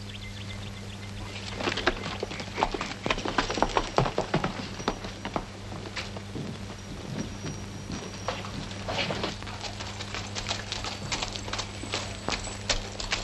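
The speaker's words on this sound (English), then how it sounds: "Now get on your horse and get going." Steady clip-clop of horse hooves on hard ground, a continuous walking rhythm with a low hum in the background.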